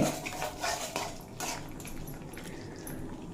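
Spices and boiled potatoes being stirred and fried in a pan for a vegetarian soybean curry, giving soft spoon scrapes and clinks against the metal with a light sizzle, close and fairly quiet.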